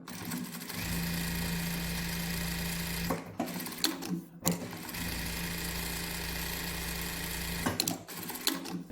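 A Juki DDL-8000C industrial lockstitch sewing machine test-sews at a speed setting of 1700 with a stitch length of 3, giving a steady whirring hum in several runs broken by short stops, quiet and close.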